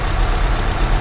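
A 1990 Nissan Pao's 987 cc engine idles with a steady low rumble, close and fairly loud, with no talking.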